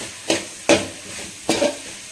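A spatula scrapes through fried potato, cauliflower and eggplant in a lightly oiled pan: three distinct, close stirring strokes over a soft sizzle, with short pauses between them.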